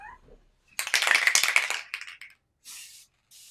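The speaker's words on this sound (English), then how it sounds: "You can hear the spray happening." A spray can hisses in a few quick bursts while a card is being made, close and crisp, with a longer opening spray followed by two short separate puffs.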